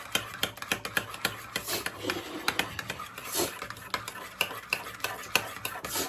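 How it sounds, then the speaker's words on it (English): A dry spice rub, about a teaspoon of each seasoning, is stirred together in a bowl for oven-baked ribs, making close, rhythmic scraping and gritty swishing strokes that repeat steadily, with no talking. "Then I'm gonna mix that up. Mix it up just like this."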